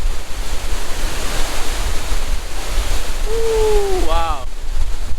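Rushing water at Klang Si Waterfall produces a steady, loud, broad roar throughout, with a brief tonal whine near the end rising above it.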